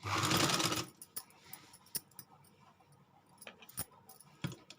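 Sewing machine stitching salwar pleats: a loud, short whirring run of stitches up close, then quiet with scattered clicks and handling taps as the fabric is adjusted.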